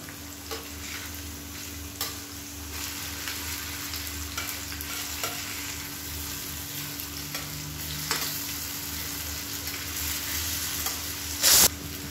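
Raw banana slices fry in a pan with a steady sizzle and crackle, punctuated by intermittent utensil taps and scrapes as pieces are turned, ending in a short louder clatter.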